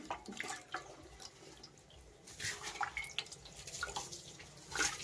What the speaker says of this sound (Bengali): শুরু হয়ে গেল মিঠুর চান।